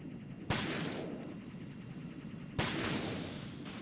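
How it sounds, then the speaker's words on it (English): Gunfire in the video game Metal Gear Solid 2: The Sons of Liberty: two sharp, loud reports about two seconds apart, each decaying over a low background hum. "You mean tell me you didn't hear that gunshot?"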